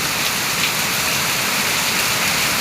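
Heavy rain falls steadily and densely, a continuous close hiss of drops on surfaces with no breaks and no voices.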